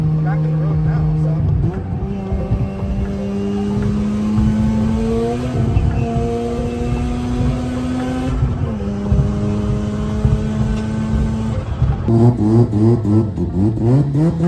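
Subaru BRZ with a swapped rotary engine driving on the road, its engine note steady and loud with clear shifts between gears, close and constant, with people talking over it.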